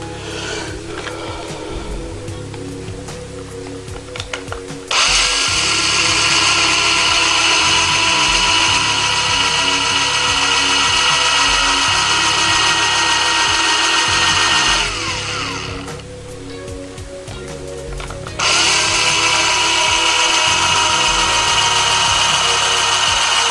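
A power drill whirs loudly in two long bursts driving a screw into plastic, with a lower motor hum and brief pauses between runs.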